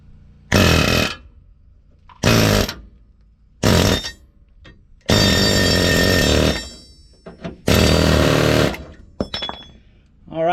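A pneumatic air hammer drives a torsion bar key out on a Chevy/GMC 2500/3500 truck, loud rapid hammering in five bursts of about one to two seconds each, separated by brief quiet gaps.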